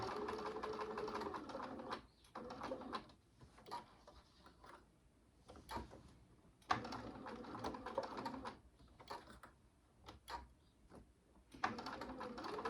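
A sewing machine stitches a drawstring bag cord in close, rapid bursts, each run of needle rattle separated by short pauses, including a short back stitch, with no talking.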